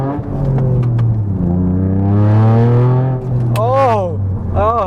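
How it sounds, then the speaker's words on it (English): A car engine idles after tuning with a droning, wavering exhaust note that rises and falls in pitch, loud and close, with brief chirps near the end. "the exhaust is doing something pretty wacky then"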